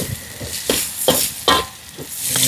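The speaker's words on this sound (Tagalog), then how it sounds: "Dito ko na po igigisa para mas mabango." Aromatics sautéing in a pan over an outdoor fire with hearts of palm, a steady sizzle broken by a few distinct scrapes and stirs of a utensil, close and moderately loud, with no talking.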